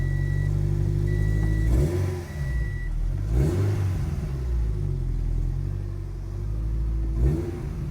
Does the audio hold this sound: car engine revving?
yes